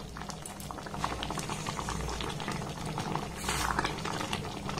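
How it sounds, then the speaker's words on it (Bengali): A raw mango sweet, sour and spicy pickle with vinegar and roasted spice mix bubbles steadily in a pan, giving a constant close, thick boiling sound with no voices. "আবারও 2 মিনিট সময় যেটাকে আমি ফুটিয়ে নেব"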